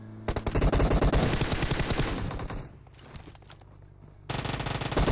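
An Uzi submachine gun in the PUBG Mobile video game fires long rapid bursts, loud and close, pausing briefly before another automatic burst.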